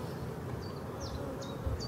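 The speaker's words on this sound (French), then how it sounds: "Il y a de l'abeille là-dessous." Honey bees buzz steadily around an open beehive while supers are checked for honey during rapeseed bloom, a dense continuous hum with individual bees zipping close past the microphone.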